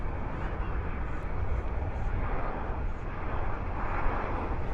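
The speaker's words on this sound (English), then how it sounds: "This is a United flight coming in from Denver." A United Airlines jet from Denver comes in to land at DFW airport at night, a steady broadband engine roar holding close and loud throughout with no pause.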